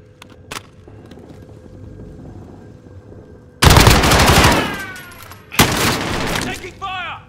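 Gunfire from the video game Call of Duty Modern Warfare comes in two loud, close bursts of rapid automatic shots. A voice speaks during the firing, and quieter game sounds come before it.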